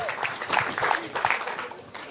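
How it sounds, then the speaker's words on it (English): A wedding crowd applauding the groom's sister, a short burst of dense clapping with some voices mixed in. "Give a round of applause for the sister of the groom, Ariel."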